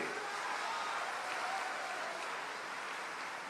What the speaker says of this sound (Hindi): अवनीश जी खातिर एगो जोरदार ताली जोर से